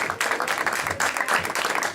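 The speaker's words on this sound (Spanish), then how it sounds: "Dale un aplauso fuerte." Church congregation applauding loudly, dense rapid clapping from many hands sustained throughout, close and full.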